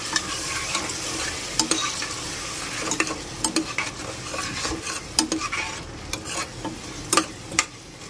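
Coriander masala for a Hyderabadi vajari dish sizzles and fries in a pan while a spoon stirs it, scraping and clinking against the metal in frequent sharp strokes over a steady close hiss.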